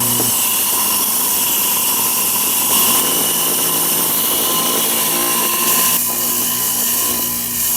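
A saw cuts through a Laguna Lace agate rock, producing a continuous loud grinding whine with hissy, steady texture and a few brief shifts in pitch as the blade works through the stone, with no talking.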